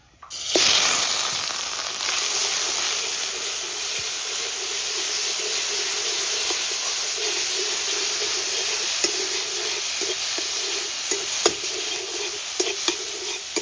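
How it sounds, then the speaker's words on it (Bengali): Ground leaf paste frying in hot oil with dried chillies and nigella seeds, a loud, steady sizzle and hiss close up that runs the whole time with occasional stirring clicks and no talking. "তেল গরম হয়ে গেছে শুকনো লঙ্কা আর কালো জিরে দিয়ে দেবো এবারে দিয়ে দিছি পাতা বাটাটা"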